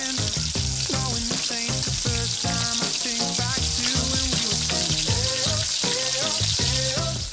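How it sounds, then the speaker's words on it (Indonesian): Flour-coated gourami fish frying in hot oil, a loud, continuous sizzle and crackle with hints of stirring and scraping running the whole way through. "goreng daging ikan gurame yang udah dilumuri tepung kayak gini"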